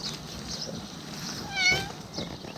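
A street cat in Cyprus gives a single short meow partway through, fairly close, over faint background noise with no talk.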